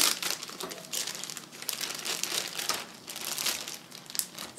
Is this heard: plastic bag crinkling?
yes